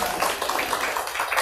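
An audience applauds to welcome two guests at a church gathering, a dense, even wash of many hands clapping at moderate volume throughout, with no voices.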